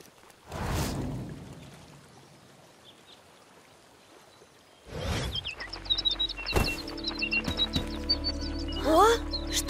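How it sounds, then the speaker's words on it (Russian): Cartoon birds crying out near a river with splashing water, a burst of high chirping calls rising over a watery background after a quieter stretch, with voices speaking early on. "Джансон, я слышу крики птиц."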